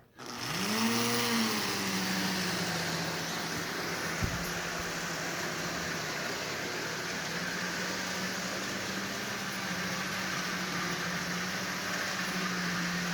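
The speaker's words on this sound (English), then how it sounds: "So 4 Lionel cars powered by the propeller-powered Lionel car." A propeller-powered Lionel toy train car spins up and then hauls four Lionel cars in a steady, whirring drone. It starts with a quick rising whine and holds an even hum close by, with one brief click partway through.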